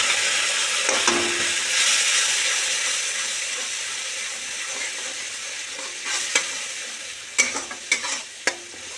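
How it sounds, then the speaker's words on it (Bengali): Turmeric, Kashmiri chilli powder and sugar sizzle steadily in hot oil in a pan, with a spoon stirring and scraping now and then; a few sharper clinks of the spoon come near the end, and no one speaks. "এবার মশলাটা একটু কষে নেব ভালো করে"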